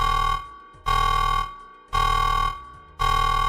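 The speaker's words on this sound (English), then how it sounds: "Anyone in the US is currently sounding the fuckboy alarm" A buzzing alarm sound effect plays on a livestream, four loud, harsh, harmonic-rich blasts repeating roughly once a second, each fading slightly before the next starts, with no talking.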